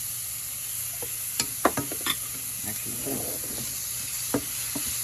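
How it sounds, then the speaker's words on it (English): Onions and garlic sautéing in a pan while being stirred, a soft steady sizzle broken by several short scraping and clinking strokes of a utensil, close and fairly quiet, with no talking. "we're going to mix the onions and garlic. Right now we're just sauteing them."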